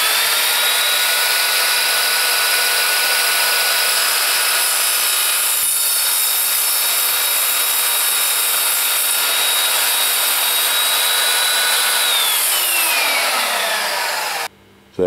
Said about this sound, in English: It's cutting through that steel fitting.